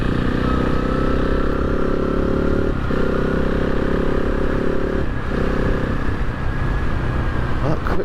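A 2024 KTM 690 SMC R single-cylinder supermoto engine under way, a loud steady drone with brief dips around gear changes from the quickshifter, heavy wind roar throughout.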